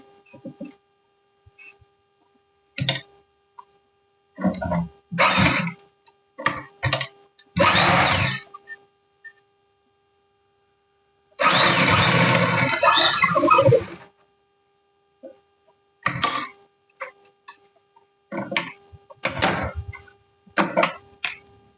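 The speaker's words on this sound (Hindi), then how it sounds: "तो चलिए इसको स्टिच करते हैं" Bursts of a sewing machine stitching a bag keychain, short runs of rapid mechanical whirring separated by silences, with one longer continuous run in the middle; loud and close with no talk.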